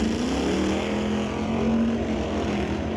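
A Chevelle and an SS Motorsports S10 at an NHRA drag racing event, with a loud sustained engine roar droning steadily over the whole stretch, no talking.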